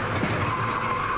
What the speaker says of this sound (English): On a tire, trouble, turn 1, hard, a car in the wall, and spinning down to the bottom.